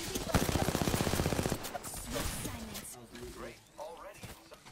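Rapid automatic gunfire from an Apex Legends match rattles in a tight burst for about a second and a half, followed by game effects and a voice talking.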